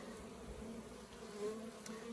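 A steady, dense buzz of many honeybees at an opened hive hums continuously close by, with no voices.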